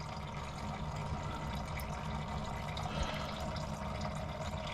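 Antifreeze draining out of a Geo Tracker engine with a blown head gasket, a soft continuous trickle of liquid splashing, low and steady throughout, without any voices.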